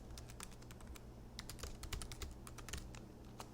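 Typing on a computer keyboard, rapid irregular key clicks close by and quiet, with a low steady hum behind.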